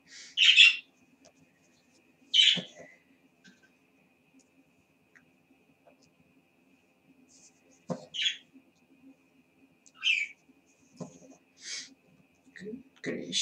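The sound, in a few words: birds singing loudly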